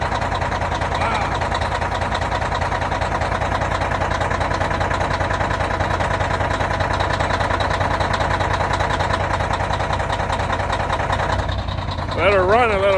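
A cold-started Detroit 12.7 diesel engine idles loudly and steadily, a rough continuous rumble running throughout, with voices talking over it near the end.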